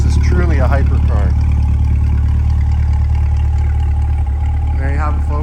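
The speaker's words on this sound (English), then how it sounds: "Love the chuck from the exhaust. It sounds phenomenal." 2020 Chevrolet Corvette 2LT coupe exhaust from behind, loud deep idle rumble with brief rising revs at the start and end, someone talking over it.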